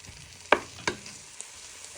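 Kung Pao chicken ingredients with onion, garlic and stock are stirred in a pan. Two sharp scrapes of a utensil on the pan stand out over a soft, steady sizzle, followed by a lighter tap.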